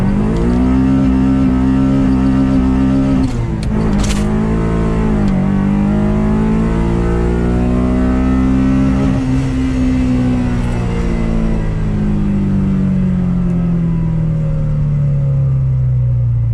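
A Honda Civic with a B20 VTEC engine revs hard at a drag strip, its loud, steady engine note holding and rising for the whole stretch with no talk.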